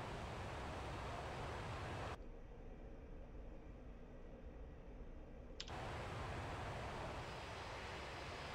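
An A-4E Skyhawk jet taxiing toward the runway in DCS World, a steady broadband engine roar that drops quieter for a few seconds in the middle before swelling back to full level.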